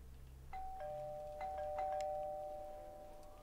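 Doorbell in Mafia 2 rings several times in a row, clear bright tones repeating over a low steady room hum, with no talking.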